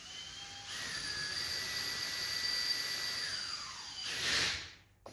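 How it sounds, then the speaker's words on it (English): A steady high-pitched whine of a small drill enlarging holes in a carburetor gasket, running continuously at close range, rising briefly near the end before stopping. "a drill bit and make these holes a tiny bit bigger."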